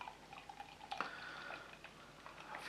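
Original Leipziger Gose from Bayerischer Bahnhof, a bottle-conditioned beer, pouring carefully from the bottle: faint, close trickling and dripping with small splashy blips, quiet and steady with no voices.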